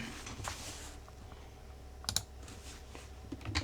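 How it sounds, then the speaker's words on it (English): Keystrokes on a Razer computer keyboard tap out in soft, uneven bursts, with a sharper cluster of clicks near the middle and a few louder presses at the end, close and alone over faint room noise. "Really do not like this Razer keyboard."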